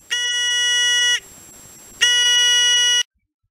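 A piezo buzzer emits two loud, shrill electronic tones, each about a second long, separated by a short pause.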